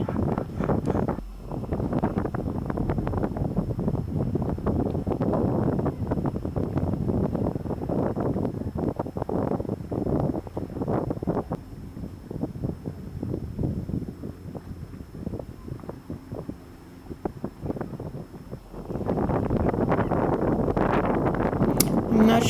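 Strong wind buffets the microphone in continuous roaring gusts at the seafront outside a sea life park in Tokyo, easing briefly before surging loud again.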